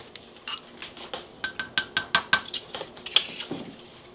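A utensil scrapes and clinks against a container while keto gingerbread mug cake batter is mixed, giving a quick run of light, close taps and knocks with no talk.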